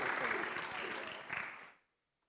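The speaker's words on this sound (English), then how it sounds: "let's give her a round of applause" An audience at a school fall athletic awards ceremony claps in a short, even burst of applause that fades out quickly and ends in silence.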